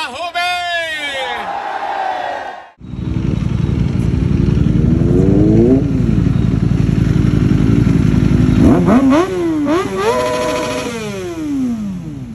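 A Kawasaki Ninja H2 motorcycle on a ride, its engine droning loudly and steadily close by, with revs rising and falling in sweeping pitch changes and a burst of throttle later on.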